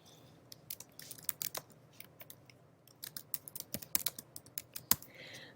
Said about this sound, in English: I'll start typing